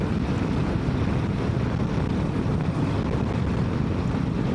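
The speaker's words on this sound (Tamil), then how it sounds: "நல்ல காற்று, பட் எனக்கு இவ்வளோ காற்று அடிக்குது" Strong wind buffeting a motorcycle rider on a highway ride toward a hill road, a loud continuous low roar of rushing air across the microphone with no break and no voices.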